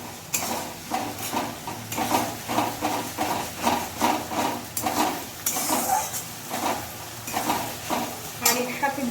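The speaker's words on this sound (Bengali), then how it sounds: "এরপর আমি এখানে রসুন আর একটু পেঁয়াজ বাটা 2 চামচ মতন দিয়ে দিলাম। এগুলোকে ভালোভাবে আমি নাড়িয়ে নেব।" Garlic and onion paste frying for mutton curry, with a rhythmic scrape of stirring in the pan repeating steadily over a constant sizzle, close and loud.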